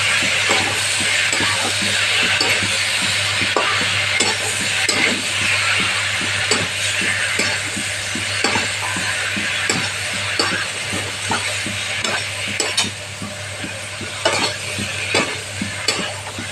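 Chilli, onion, tomato and garlic paste frying in a pan, with a loud sustained sizzle close by and rhythmic scraping as a spoon stirs it repeatedly.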